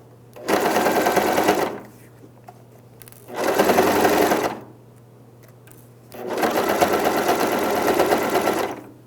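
A sewing machine stitches a hem on jeans in three loud bursts of rapid mechanical whirring, separated by short pauses with only a faint hum.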